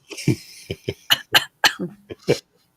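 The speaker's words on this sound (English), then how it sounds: "Cough, cough." A run of short, sharp coughs, about eight or nine in quick succession, close and fairly loud with brief pauses between them.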